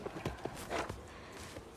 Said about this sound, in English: What's got the horse spooked?